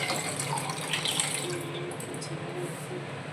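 Water runs steadily from a tap while a Bengali fish curry with koi fish, potatoes and drumstick stalks is being cooked, a continuous close splashing flow with no talk over it.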